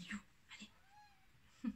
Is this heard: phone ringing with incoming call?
no